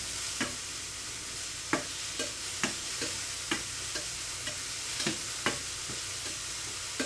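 Food sautéing in a pan: a constant low sizzle punctuated by regular, crisp taps and scrapes of a utensil roughly every half second to second, close by and without speech.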